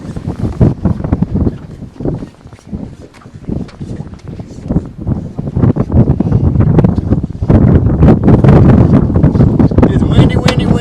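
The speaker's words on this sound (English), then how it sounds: "It's windy today." Strong gusty wind buffets the microphone while fishing at Cold Pass, loud and uneven with rushing blasts that build toward the end.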